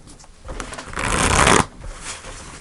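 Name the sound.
tarot cards being shuffled to pull a card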